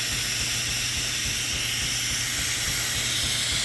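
Steam wand of a Breville Bambino Plus espresso machine hissing loudly and steadily, a broad continuous rush with a low rumbling undertone, alone without talk.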